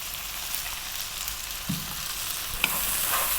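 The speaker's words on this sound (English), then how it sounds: "We're going to stir fry this around for 3 to 4 minutes on this high heat." Celery, green beans, carrots and cauliflower, cut small, stir-fried on high heat for vegetable fried rice, giving a loud, continuous sizzle with occasional light spatula scrapes and taps.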